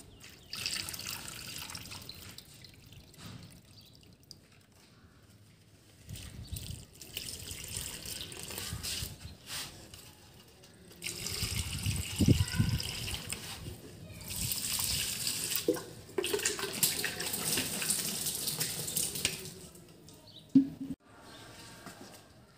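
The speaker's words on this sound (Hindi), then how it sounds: "बस एक गमला रहता है उसमें पानी डालती हूँ" Water poured into a household plant pot, splashing and trickling in several bursts of varying strength with quieter gaps between them, close up and with no talk.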